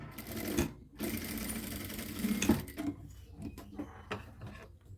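Close, rattling runs of a sewing machine stitching a seam on children's clothing, broken by short pauses and a few clicky stops near the end.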